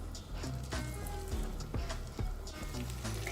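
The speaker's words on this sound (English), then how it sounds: "And I get them frying." Tuna and potato patties coated in panko fry in a skillet, giving a soft, steady sizzle with scattered pops and crackles; faint and close, with no voices.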